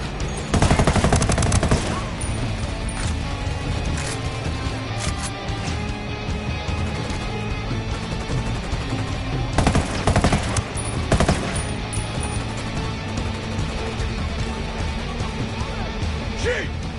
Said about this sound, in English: Shoot! Opening fire!